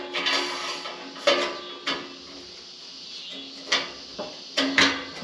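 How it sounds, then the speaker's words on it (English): Axle being slid through the frame of a Vulcan welding cart, several metallic sliding scrapes and knocks in uneven bursts, close by and moderately loud, with no speech. "Slide the axle through."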